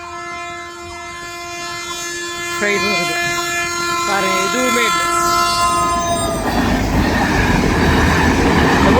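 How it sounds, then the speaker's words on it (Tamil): A train sounds a long, steady horn as it nears an unguarded railway crossing at Murikandi with no working warning lights, then its loud rumble builds as it rushes through close by, while someone talks over it. "ஆனால் ட்ரெயின் வருது"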